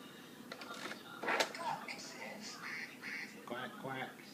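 A small child imitates a duck, giving a handful of short nasal quacks up close, mixed with clicks and an adult talking softly.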